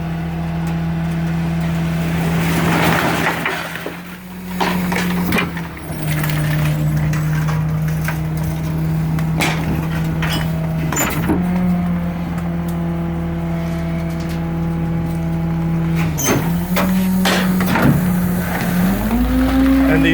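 A 12,000-pound winch on a garbage truck lifts with a steady droning hum that holds a constant pitch, dips briefly twice and rises toward the end, loud and close with scattered clanks and knocks over it.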